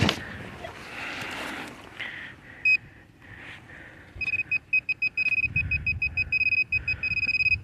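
A metal detector pinpointer emits a rapid series of high electronic beeps, close by, following earlier scraping and faint movement sounds, while digging near old trenches and a dugout.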